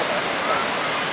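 Kusu waterfall in Japan pours in a loud, unbroken roar of rushing water, close and steady throughout, with no clear voices above it.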